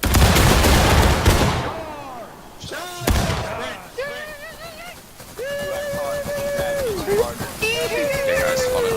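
Musket volley from an infantry line in the War of Rights Civil War video game: a loud, dense crackling burst of many shots at the start, then scattered reports and shouted commands.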